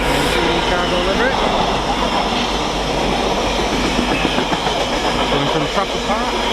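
Class 66 freight locomotive 66136 in cargo livery passes close at Stafford on the West Coast Main Line, a loud sustained rumble with wheel clatter and squeals as the wagons roll by. Voices are heard faintly under the noise.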